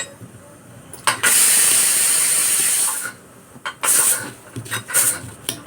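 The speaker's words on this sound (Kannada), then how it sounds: "ಅದು ಕುಕ್ಕರ್ ನೋಡು ವಿಜಿಲ್ ಬಂದೈತಾ ಅಂತ" A kitchen pressure cooker lets out a loud, hissing steam whistle lasting about two seconds, followed by several shorter sputtering bursts of released steam.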